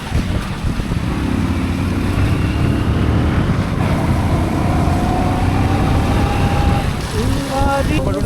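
Motorcycle ride to a lake on a rainy day, the engine droning steadily and loudly throughout with wind rush, while voices talk over it.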